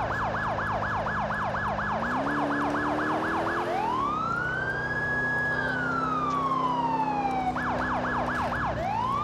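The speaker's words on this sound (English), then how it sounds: "the siren I'm using is the, I think it's like Touchmaster Delta Federal Signal or something like that" Federal Signal Touchmaster Delta police siren in the GTA IV LCPDFR mod, snowy city patrol: a rapid yelp cycling steadily, breaking into a long rising-and-falling wail, then returning to the fast yelp, loud and continuous over a low engine hum.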